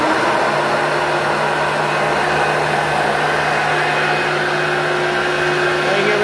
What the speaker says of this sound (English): Let's test out a Hoover Power Drive Supreme